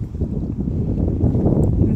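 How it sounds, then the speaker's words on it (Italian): Strong wind rumbles and buffets the microphone steadily, a dense low roar with no speech. "Senti che vento che c'è."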